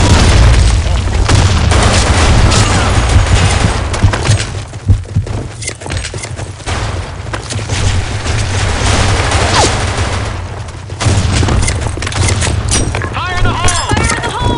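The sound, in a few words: grenade explosions in video game Blackshot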